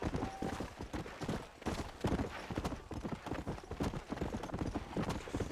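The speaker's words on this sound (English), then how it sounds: "o cavalo vem na... alucinado" A horse galloping in Red Dead Redemption, rapid rhythmic hoofbeats pounding steadily and close throughout, with faint talk and game sounds beneath.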